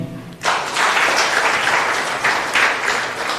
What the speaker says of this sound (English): And an exceptional round of applause to the First Lady,